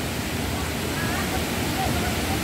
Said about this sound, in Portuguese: Olha só que maravilha essa cachoeira aqui.